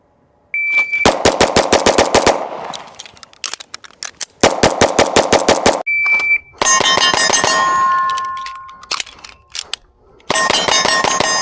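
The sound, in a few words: Sig Sauer P211 GTO pistol shots with compensator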